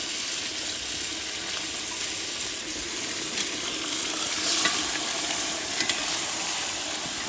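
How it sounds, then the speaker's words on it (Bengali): Chicken fries in hot oil in a pot during outdoor village cooking, giving a steady, dense sizzle that hisses evenly throughout with faint stirring and no talk. "চিকেন গরম তেলে বন্ধুরা ভাজা হচ্ছে"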